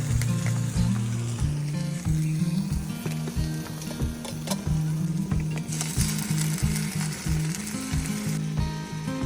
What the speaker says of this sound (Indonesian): kita mau tumis enoki sama brokoli